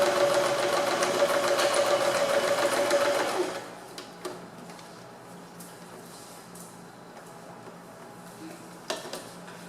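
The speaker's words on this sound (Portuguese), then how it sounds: "você vai passar um zigue-zague bem aqui na beiradinha para segurar todas essas pregas" A sewing machine zigzag-stitches pleats along the edge of a cap, running loud and steady for about three and a half seconds before stopping, followed by faint handling noises.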